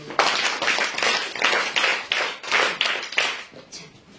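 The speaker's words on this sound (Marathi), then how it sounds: "तिच्यासाठी आपण टाळ्या देऊया." Children clapping together in a classroom, a lively burst of rhythmic applause with roughly a dozen loud, close claps in even succession, fading at the end.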